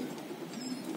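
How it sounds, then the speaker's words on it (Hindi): Domestic white pigeons, a small group of four females and one male, give soft low cooing murmurs close by in a brief, quiet moment. "पांच कबूतर हैं"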